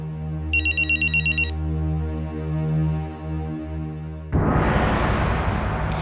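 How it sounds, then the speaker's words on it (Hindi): Telephone ringing: a short burst of rapid electronic trills over a steady low musical drone, then a loud noisy whoosh takes over for the last seconds. "फोन उठा लो, तुम्हारे घर से है।"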